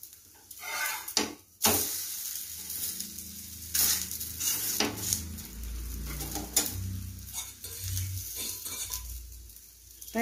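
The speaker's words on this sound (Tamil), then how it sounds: "அதனால் தீ வந்து ஸ்லோவாக வச்சு சுடுங்க." Layered parotta cooks on a pan over a low flame with a soft, intermittent sizzle, broken by occasional clinks and scrapes of a utensil, fairly quiet and close.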